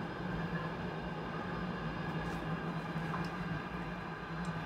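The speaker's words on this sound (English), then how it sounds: "Train action, guys, from outside" A steady, continuous rumble of a Class 88 locomotive hauling a heavy load in the game SCR, with a low hum and broad mechanical noise, unchanging and fairly close throughout, with no talking.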